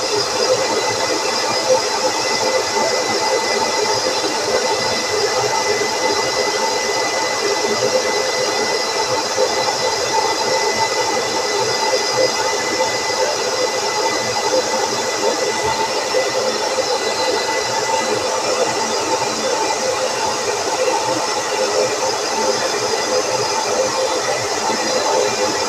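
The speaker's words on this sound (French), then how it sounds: "J'attends que la température du sèche-cheveux monte à 30 ou 29 avant de la mettre sur l'oiseau" A hair dryer blows a steady, loud whooshing hiss, used to dry a canary or goldfinch being cleaned for a bird show. It runs unbroken and close throughout.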